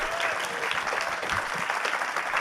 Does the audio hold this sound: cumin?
no